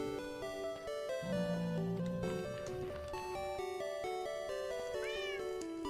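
A cat meowing in the video game Minecraft, two or three short clear meows over steady background music, near and distinct, with no talking.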